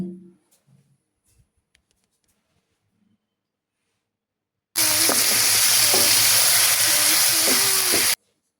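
Pigeon meat and diced potatoes frying in a pan, heard as a loud, steady sizzle that starts abruptly after a quiet stretch and runs for about three seconds before cutting off.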